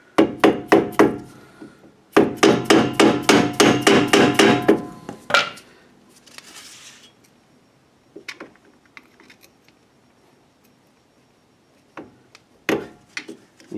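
Screwdriver worked and tapped against a wheel hub dust cover while removing the rear hub of a 2007 Kia Sportage, sounding as two loud bursts of rapid metallic knocks, then sparse, fainter taps and scrapes.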